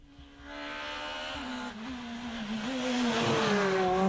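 A Skoda S2000 rally car on a rally stage roars past, its engine note climbing steadily as it accelerates hard, loud and close, with a rising whine and no voices.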